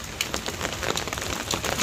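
Rain patters outdoors with scattered sharper drops ticking on a nearby surface, a moderate steady wash with no voices.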